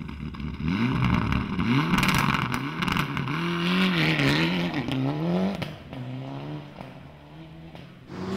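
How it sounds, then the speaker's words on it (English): An older Mitsubishi Evo 4 rally car, running in a pre-2000 four-wheel-drive class at the Quarry Road corner, drives past loud and close. The engine revs rise and fall through gear changes and then fade toward the end. "Robson is driving an older Evo 4 Mitsubishi"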